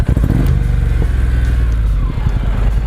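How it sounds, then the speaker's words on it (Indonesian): A Honda NM4 Vultus motorcycle engine turns over and fires into a steady, loud, close-up idle with a throbbing low rumble and slight clatter, running alone without talk. "Jadi ketika kita nyalakan motor ini seperti ini"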